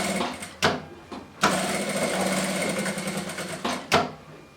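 A sewing machine backstitches along the seam of a child's blanket, a close, buzzing whir in short bursts with brief pauses and soft clunks between runs.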